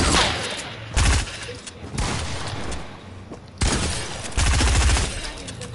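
Loud bursts of gunfire in a shooter video game, several heavy volleys with short gaps between them, close and dominant with no talking.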